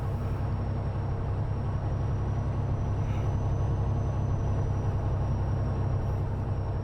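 Jake brake on a Cat CT660 truck in American Truck Simulator, a steady loud low engine rumble with rapid pulsing texture that holds throughout, along with a faint high whine.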